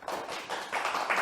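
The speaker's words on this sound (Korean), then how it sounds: "박수." An audience at a Korean lecture applauds, a short burst of clapping that comes in uneven, fairly soft waves and swells slightly toward the end.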